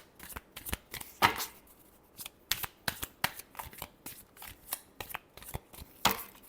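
A deck of tarot cards is shuffled up close, with quick riffling bursts and soft slaps arriving in an uneven rhythm, each card flurry sharp against an otherwise quiet background.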